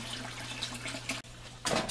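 Water pours from an opened valve into an aquaponics fish tank, a steady close splashing rush with a low hum beneath, broken by a brief gap before a louder surge near the end.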